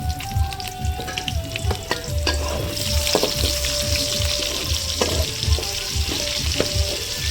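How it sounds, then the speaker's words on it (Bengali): Chopped onions frying in leftover oil to make crisp browned beresta for biryani, a close, steady sizzle with repeated rhythmic scraping of a spatula and occasional clinks, no voices. "গবড়াতে যে তেল ছিল সেই তেলের মধ্যে দিয়ে দেবো পেঁয়াজ কুচি"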